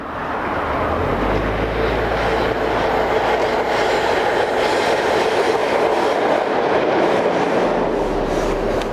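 CFL class 3600 electric locomotive number 3612 hauling a train just south of Luxembourg City, a steady loud rolling rumble with rail noise and faint clatter throughout, nearby and continuous, no talking.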